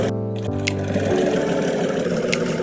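A sewing machine runs steadily and close up as it stitches lace onto the folded hem of a child's kurti, a continuous whirring hum with no talk over it.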